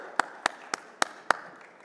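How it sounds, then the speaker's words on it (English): Five sharp, evenly spaced claps ring out close by in a small room at a chef talk at the Gulfood 2021 trade show, a single person's slow clapping rather than a full round of applause. "Oh, come on, a round of applause."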